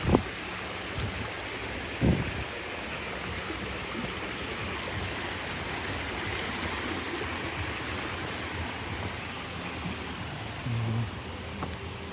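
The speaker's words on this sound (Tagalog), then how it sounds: "May fountain, may falls." A fountain and waterfall at Pine Valley, an event venue in Tagaytay, giving a steady broadband rush of falling water throughout, with a few faint bumps and handling noises.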